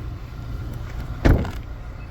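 A single solid thunk of a 2021 Mazda CX-30 car door shutting as the driver gets out, set against a quiet outdoor background.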